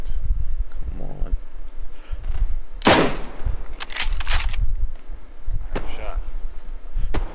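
Video game gunfire as one loud sharp burst followed by several quicker cracks, heard among other game sounds with voices in the background.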